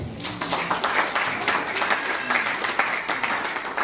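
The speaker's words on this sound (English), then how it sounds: "Let's clap hands for the word of the Lord." A church congregation claps hands together during a worship service, a loud, close, fairly rhythmic run of handclaps with crowd voices mixed underneath.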